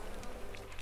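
Bees swarm around wooden beehives in the Lumberjack's Dynasty video game, a close, continuous buzzing drone that holds steady throughout a brief moment.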